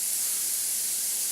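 A constant bright hissing sizzle, like food frying in a hot pan, holds steady throughout with no pauses.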